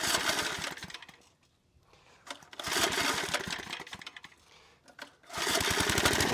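An old 1980s McLane reel mower's small gas engine sputters, stalls and catches again, running in loud rough bursts with a rapid chugging firing beat close by, separated by brief near-quiet gaps.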